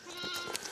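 A rustic Rava ewe bleats during lambing on a Puy-de-Dôme farm, a short, strained, wavering cry close by, with some breathy farmyard noise around it.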